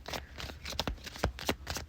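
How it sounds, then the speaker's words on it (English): Tarot cards being shuffled by hand in a series of quick, close riffling and slapping bursts that come in an uneven rhythm, with no talking. "I'm sorry about the shuffling,"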